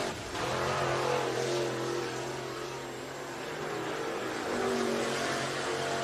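A Late Model Sportsman race car runs a qualifying lap at Needmore Speedway, a dirt oval in Norman Park, Georgia. Its engine drones steadily at a distance, swelling and easing slightly as it circles the track.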